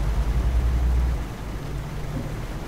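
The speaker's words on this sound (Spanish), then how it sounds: "Y más con este aguacero." A heavy downpour roars as broadband hiss from inside a Marcopolo Paradiso G7 1200 bus on curving roads, with a low engine rumble beneath that eases slightly partway through, and no talk.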